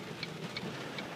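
Steady rain falls during a thunderstorm as a faint, even hiss with light patter, and no voices are heard.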